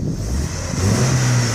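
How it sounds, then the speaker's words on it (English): A Vauxhall Astra convertible engine idles steadily with a low, even hum and some wind rumble across the microphone. "Listen to the engine."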